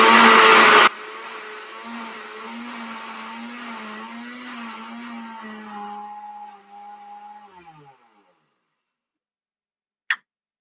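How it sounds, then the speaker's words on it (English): A kitchen blender whirs as it blends a dried beef dip, starting with a loud burst, then settling into a steady motor drone that winds down and stops, followed by a single sharp click. "I have to blend this up."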